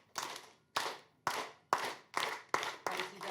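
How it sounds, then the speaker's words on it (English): Audience at a talk clapping along in unison, about seven slow, evenly spaced claps, each a sharp crisp burst with a short decay, quiet and fairly distant. "So clap with me."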